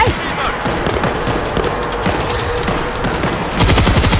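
Rapid automatic gunfire from a shooter game set in Moscow, a dense continuous stream of shots that swells louder near the end, with a voice talking over it.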